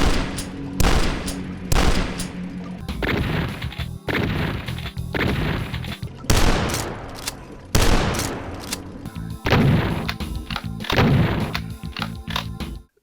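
Shotguns firing in the retro first-person shooter game DUSK, heard as a loud, close series of heavy booming blasts about a second apart, with some quicker bursts and no talking.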